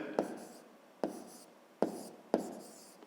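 Pen or pencil strokes on paper during a fifth-grade maths exercise, four short scratchy bursts about a second apart, close and fairly quiet, with no talking.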